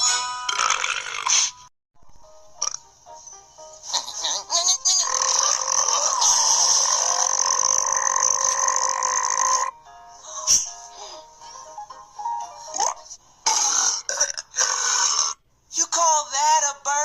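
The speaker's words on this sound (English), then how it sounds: "You call that a burp?" Long, loud, drawn-out burp rumbling with a raspy, gurgling texture for several seconds, followed by shorter choppy bursts and pauses, from a cartoon character.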